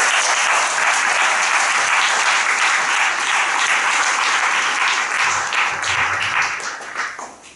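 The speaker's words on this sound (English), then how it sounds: "Let's just give the band another round of applause." A round of applause for the band at a school chapel service, many hands clapping in a full sustained wash that thins and fades out in the last second.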